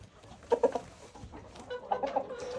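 Rooster clucking nearby, two short clusters of throaty clucks separated by a pause, over a low background murmur.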